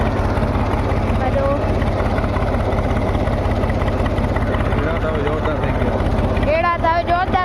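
A tractor engine drones steadily and close while pulling a harrow through a castor field, and someone talks over the constant rumble.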